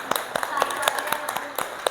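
A classroom of students gives a group a rhythmic train-style applause, sharp clap bursts arriving in a steady chugging pattern that mimics a moving train, recorded in the room with voices mixed in.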